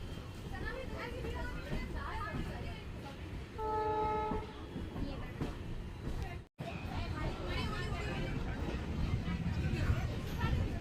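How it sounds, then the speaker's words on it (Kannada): A passenger train rolls into platform 1 at Hubballi Junction, with steady rumbling wheel noise, a brief tonal horn blast partway through and people talking over the din. "ನಮ್ಮ ಟ್ರೈನ್ ಈಗ ಪ್ಲ್ಯಾಟ್ಫಾರ್ಮ್ ನಂಬರ್ 1ಕ್ಕೆ ಎಂಟ್ರಿ ಆಗ್ತಿದೆ"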